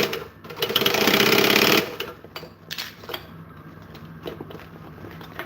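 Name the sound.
sewing machine stitching around a thick fabric seam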